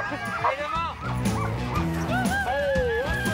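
Sled dogs at a children's mushing race at the Lekkarod bark, yip and whine excitedly close by, with people talking over the noisy chorus.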